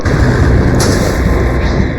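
Gunfire in a Roblox horror video game, a loud booming burst that carries through a continuous rumble, with a sharper crack near the middle.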